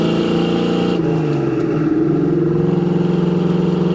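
A 1976 Pontiac Trans Am with a 4-speed manual pulls hard on a test drive, its engine droning loud and close, with a gear shift about a second in and the rising pitch resuming after it.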